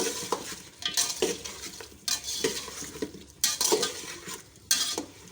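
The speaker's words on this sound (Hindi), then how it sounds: "इसको 2 मिनट हम फ्राई करेंगे।" Whole spices sizzle and frying in hot oil: two black cardamoms, four green cardamoms, seven or eight cloves and two bay leaves. A steady crackle runs under repeated scraping stirs of a spoon against the pot, with no voices.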